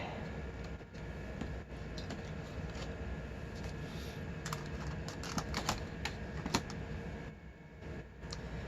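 Rapid typing on the keyboard of a Compaq LTE Lite 4/25E laptop under restoration, steady close clicking with sharper key taps scattered throughout over a constant background hum.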